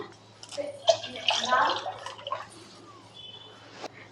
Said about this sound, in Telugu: నేను ఇందులో కూడా వాటర్ కూడా ఏమి కలపను డైరెక్ట్ మిల్కే యాడ్ చేసేస్తాను